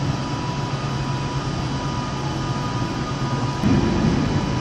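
A CrossCountry train pulls into Birmingham International station with a steady, loud low rumble and a faint whine. A heavier surge of engine noise builds near the end.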